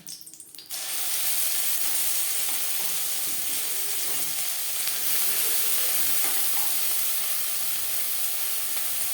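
Ground cauliflower leaf paste hits hot oil with green chillies: a sudden loud burst of sizzling that settles into a dense, steady hiss, with faint stirring underneath.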